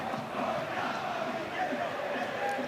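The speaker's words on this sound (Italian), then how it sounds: "sentite i tifosi della curva sud che si fanno sentire" A large crowd of football fans in the south stand chants and roars steadily in a stadium during a Catania versus Acireale match, a sustained distant mass of voices.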